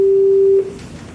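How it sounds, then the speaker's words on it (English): A telephone tone sounds as one loud, steady electronic beep that holds for about half a second and then cuts off, leaving a faint room hum. "Phone's ringing."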